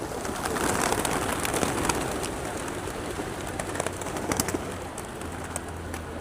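Pigeons being fed in Hopa, Artvin coo and flutter nearby while scattered pecking and wing sounds come and go over a low steady background rumble.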